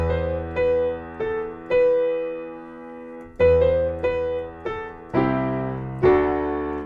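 A piano plays a melody slowly over sustained chords, each struck chord ringing and decaying before the next, clear and close with no talking.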